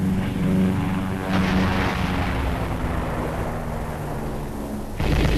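Artillery fire rumbles on a Korean War battlefield, heavy low booms and rolling blasts under a dense roar, with a brief abrupt break near the end before the barrage resumes, loud and continuous.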